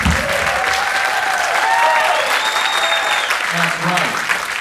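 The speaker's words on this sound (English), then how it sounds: "How about applause for the students?" An audience applauds jazz camp students after their performance. The clapping is dense and sustained, with a few whistles and cheers rising above it.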